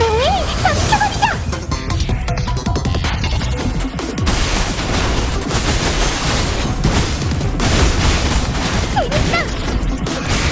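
Fireworks burst in a dense, loud barrage of overlapping bangs and crackles, a continuous volley with whistling rises at the start and near the end.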